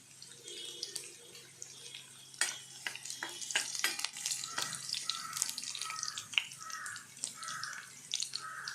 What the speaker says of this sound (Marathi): लसूण आपला परतून झालेला आहे कढीपत्ता टाकत आहे